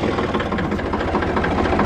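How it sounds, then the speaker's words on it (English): Diesel tractor engine idling on a cold morning after starting with glow plugs, a steady low rumbling chug with even mechanical knocking, close and continuous with no talk. "So right now I want to get the tractor fired up."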